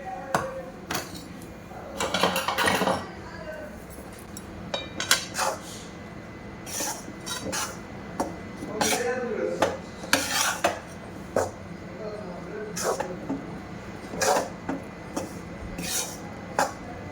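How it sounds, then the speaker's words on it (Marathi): Besan flour roasting in ghee for ladoo is stirred continuously, with repeated sharp metal spoon scrapes and clanks against the pan over a low background hum, close and fairly loud, no speech. "आपल्याला सतत हलवत राहायचे आहे, म्हणजे पीठ हे करपणार नाही आणि छानपैकी खरपूस भाजल्या जाईल"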